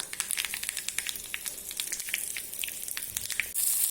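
Red chillies sizzle in hot oil for a tempering, alongside mustard seeds, for a raw papaya sambar; a steady close crackling hiss runs throughout with scattered sharp pops, growing slightly louder near the end, with no talking.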